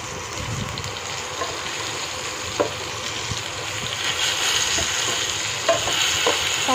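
Nigella seeds tempering in hot oil, stirred in a pan: a steady close sizzle and crackle with occasional scraping strokes and small spatters, no talk.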